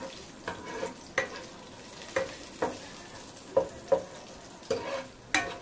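Cardamom, cloves, nutmeg, mace, cashews, bay leaf and star anise roast in a pan for vegetable dum biryani, with about nine sharp scraping knocks of stirring over a low, steady background sizzle.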